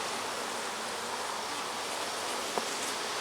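Honey bees swarm densely around an opened hive during a frame inspection, a loud, continuous, even buzz filling the air with no voices and only a faint click near the end.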